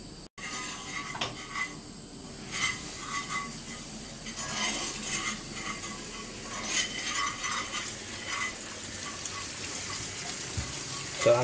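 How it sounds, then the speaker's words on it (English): Cold tap water runs steadily over freshly cooked pasta in a kitchen sink, a soft continuous splashing with occasional clinks of a pot or colander, and no talk. "So I'm just rinsing under cold water"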